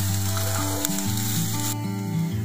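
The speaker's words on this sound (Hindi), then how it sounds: "अपने जो ओनियन हमने फ्राई करने रोस्ट करने लगे थे" Onions fry and sizzle in a pan over a high flame while cooking chicken, a steady, close hiss with bubbling and crackling throughout and no speech.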